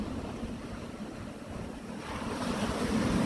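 Pacific Ocean waves wash onto a beach about an hour from Sydney, a steady broad surf rush with wind, growing louder in the final second as a wave breaks closer.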